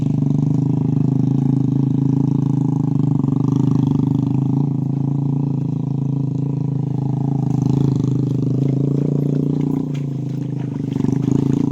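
A motorcycle engine drones steadily at close range, labouring along a muddy road in Barangay Ilas, Montalban, as it pushes through thick mud with no break in the sound.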